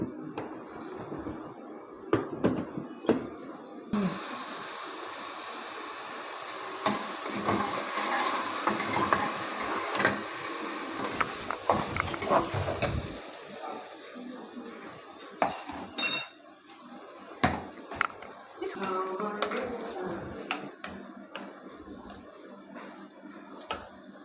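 Masala of tomato, chilli and garlic cooking slowly in a pan over low flame, a steady soft sizzle with repeated scraping and clinks of a spoon stirring against the pan, close and moderately quiet, no talk.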